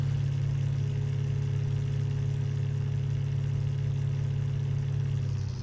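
A steady, droning engine hum from an old Ranger pickup truck in Farming Simulator 19, idling and running evenly, loud and continuous throughout.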